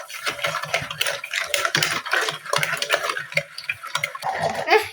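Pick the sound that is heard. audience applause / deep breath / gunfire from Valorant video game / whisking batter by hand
whisking batter by hand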